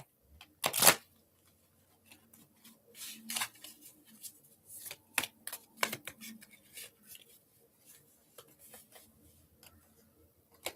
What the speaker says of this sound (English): I'm going to shuffle really quick.